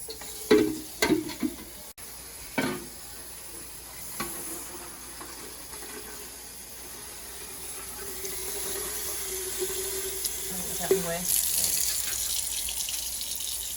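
Water pours steadily into a vessel for several seconds after a few clattering knocks, with a soft hiss rising near the end.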